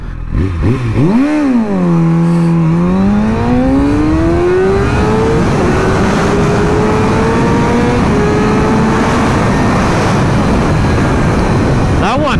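A motorcycle launches hard from a standstill on higher octane fuel, its engine note sweeping down then climbing steadily through the gears, loud and close, lifting the front wheel, with faint rider voice and wind noise behind.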